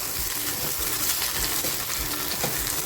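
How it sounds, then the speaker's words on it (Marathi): Okra (bhindi) frying lightly in a pan, a dense continuous sizzle with faint stirring bumps underneath, close and steady throughout. "बघा हलकीशी भेंडी आपल्याला फ्राय करून घ्यायची आहे"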